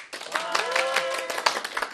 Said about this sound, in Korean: 연출된 박수죠. 연출된 박수.